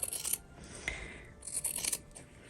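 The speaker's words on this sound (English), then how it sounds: "you go in and cut the whole thing out, like the whole straight line" Scissors cut along a straight line through folded fabric, making close, crisp snipping and scraping bursts, with a pause between two cutting runs.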